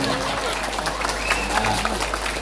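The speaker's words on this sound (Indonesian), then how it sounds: "Sekarang ada tepuk tangan" Applause from the audience at a Balinese drama gong comedy performance, a short burst of scattered clapping mixed with crowd noise and a low hum.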